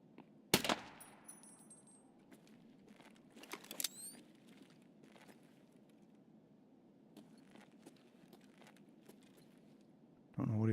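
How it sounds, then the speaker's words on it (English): An AI scav fires in Escape From Tarkov, producing a few faint, distant gunshots and short bursts scattered over a low background rumble, with an occasional louder nearby click and shuffle. "I see a scav out. I mean, the scav shooting at something."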